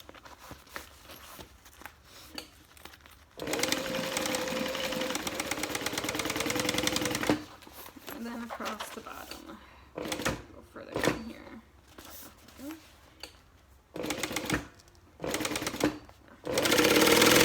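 A sewing machine stitches a zipper pouch into a handbag in bursts: a long steady whirring run, then several shorter start-stop runs with pauses between, close and fairly loud, with brief handling noises in the gaps.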